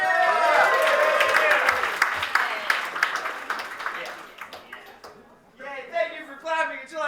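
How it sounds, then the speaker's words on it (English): A comedy club audience applauds and cheers a comedian walking to the microphone, a dense burst of clapping that thins out, followed by someone talking. "thank you for clapping until I got to the microphone"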